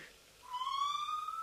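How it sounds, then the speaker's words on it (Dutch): A whistling kettle releases steam as a radio-play sound effect: a faint hiss and then a rising, sustained shrill whistle with bright overtones that grows louder and holds steady. "Zuiver verzadigde waterdamp die via het ventiel uit het drukvat ontsnapt. Oh, fluitketel."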